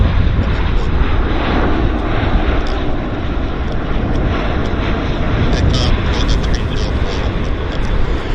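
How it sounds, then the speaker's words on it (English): A Porter airliner from Montreal approaches Vancouver airport, producing a loud, steady roar of jet engine noise with wind rumble throughout. "Now we've got Porter from Montreal on approach."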